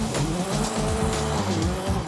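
A stripped-down supercharged 2-litre sports car launches hard, its engine revving loudly up close with a rough, throaty note and tyre noise throughout the brief burst.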